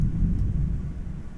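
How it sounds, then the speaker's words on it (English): Deep, steady thunder rumble during a storm, a low continuous roll filling the background without clear individual claps. "it's kind of stormy right now, so you can probably hear it in the background"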